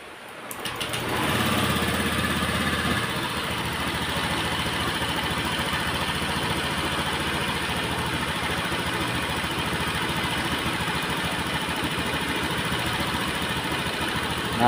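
A Honda Vario 125 scooter engine with a newly fitted throttle body starts up and settles into a steady, buzzing idle, running continuously and close by for several seconds with no one speaking.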